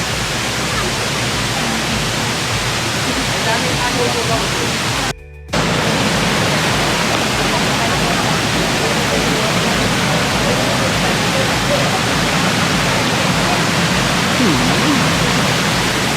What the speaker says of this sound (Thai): ตรงนี้น้ำตก